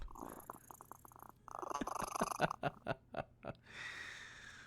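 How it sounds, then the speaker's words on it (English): A cat purrs close to the microphone in a rhythmic series of rumbling pulses with breathy snorts between them, quiet overall, ending in a softer airy hiss. "Oh, man, his cat."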